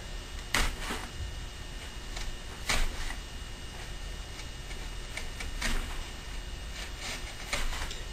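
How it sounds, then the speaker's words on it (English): A chisel pares small wooden pieces into pyramid shapes for an acoustic guitar soundboard, making sharp, close clicks and short scraping cuts at irregular intervals over a faint steady background. "Now just take our chisel and shape these into a nice little pyramid type shape."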